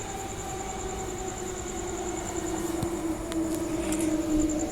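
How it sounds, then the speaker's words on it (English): A train rumbles into a platform with a steady rising roar, a high whine and a few metallic clanks, growing slightly louder as it nears. "Here comes our train."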